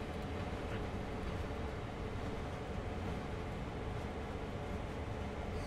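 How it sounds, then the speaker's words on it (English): A loaded oil tank train rolls past in the Train Sim World 2 simulator, a steady, low, wide rumble and rail noise holding at an even, fairly quiet level with no voices. "Is that an oil train rolling by?"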